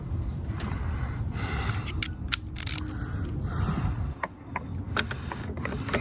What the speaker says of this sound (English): Have to get this screw out.